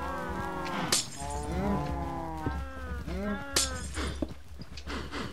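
Minecraft cows moo in repeated, overlapping calls on a farm, close and clear, with a couple of sharp cracks and a low steady hum underneath.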